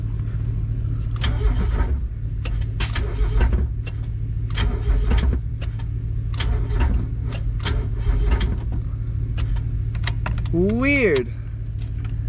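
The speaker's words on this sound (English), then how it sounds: "It like cranked and fired, shut off, and then made a crack, almost like a electrical crack." An abandoned Mazda Miata with suspect timing cranks, briefly fires and shuts off, the starter and engine rumbling steadily with clicks and clunks, then a short rising whine near the end; a man mutters once.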